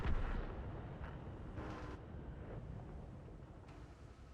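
Distant booms of artillery fire in World of Tanks roll in with a gusty, rumbling background, a few muffled blasts spaced out over a few seconds.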